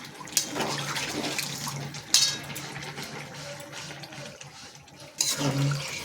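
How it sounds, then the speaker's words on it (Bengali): Water is poured into a curry of green chillies simmering in a pan, giving several splashing, gurgling bursts of liquid hitting hot oil, close by, with quieter sloshing between them. "এবার দিয়ে দেবো জলটা, যেহেতু তেলটা বেরিয়ে গেছে।"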